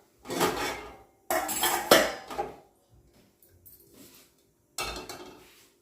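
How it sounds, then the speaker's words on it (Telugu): A metal cooking pot is set onto a stove, heard as several loud, close clattering bursts of metal with quiet pauses between them. "స్టవ్ ఆన్ చేసుకొని ఒక గిన్నె పెట్టుకుందాం"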